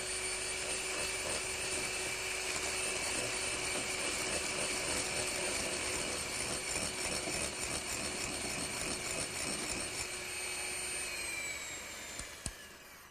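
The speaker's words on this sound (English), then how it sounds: "you begin by whisking those until they become thickened" An electric whisk beats egg and caster sugar together into a thickening mixture, a loud steady motor whine running continuously before slowing and cutting off near the end, with a couple of clatters as it stops.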